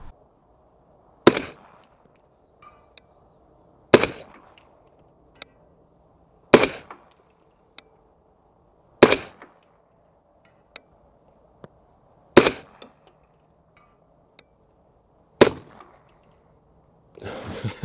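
Six evenly spaced rifle shots with subsonic rounds, each a sharp crack followed by a ringing clang of steel being hit, about two and a half seconds apart, outdoors with quiet between them.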